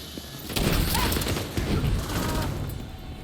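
Enemies open fire in The Division 2 video game, with bursts of rapid gunfire cracking at moderate volume over a busy combat background, and a louder cluster of shots comes partway through.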